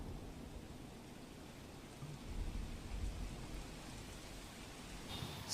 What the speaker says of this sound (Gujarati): સુરતના અલગ અલગ વિસ્તારોમાં વરસાદ વરસ્યો છે